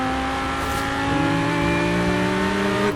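Lamborghini with a Liberty Walk body kit in the racing game Forza Horizon 4, its engine revving hard in a steady rising roar for a few seconds, loud and continuous with no talking.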